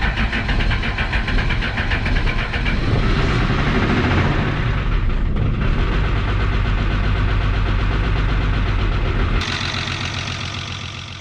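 A 1975 Chevy diesel engine runs steadily up close, its injectors clattering in a fast, rough knock for most of the stretch before the sound drops away abruptly near the end.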